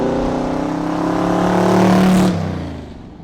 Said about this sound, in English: this is my 32 Ford 5-window coupe.